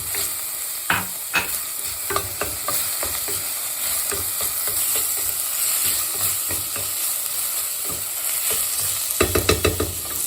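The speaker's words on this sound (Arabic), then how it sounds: "غادي نشحرات لنا البصيله، كنديروا عليها 2 فصوص ديال الثومه" Onion and garlic cloves frying in a pan, a continuous close sizzle with repeated scraping and knocking of a stirring utensil against the pan.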